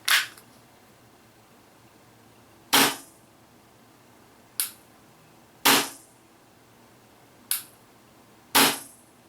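An Action Army AAP-01 airsoft gas pistol fires six sharp semi-auto shots, each a loud, crisp snap with a quick decay, spaced a couple of seconds apart with quiet between them.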